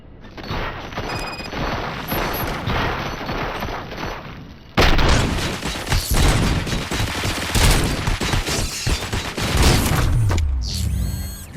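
Dense, sustained gunfire in the RoboCop Rogue City video game, rapid overlapping shots and booms that get louder and harsher about halfway through, with mechanical clanks and a sweeping electronic whine near the end.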